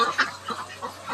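Ducks and chickens crowd around at feeding time, a few short quacks and clucks rising in quick bursts over a steady low barnyard murmur, close to the listener.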